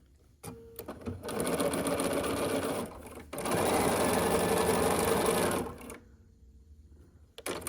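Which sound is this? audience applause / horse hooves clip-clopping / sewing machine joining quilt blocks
sewing machine joining quilt blocks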